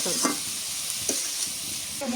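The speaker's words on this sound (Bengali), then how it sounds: "আগে মাংসটা ভাজা নেই তেলানির মধ্যে" Country chicken meat frying in oil, a loud dense sizzle right up close with a few stirring scrapes breaking through, no one talking.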